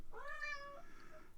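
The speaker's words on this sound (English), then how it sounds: "I told you he would meow" Squanchy the cat gives a single clear, drawn-out meow, rising then falling, close and fairly quiet over a soft background hiss.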